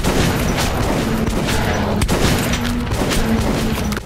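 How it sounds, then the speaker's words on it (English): A shotgun fires repeatedly in the video game Metro 2033 Redux amid a dense, loud, continuous barrage of booming blasts that barely lets up. "This guy's shotgun is sick."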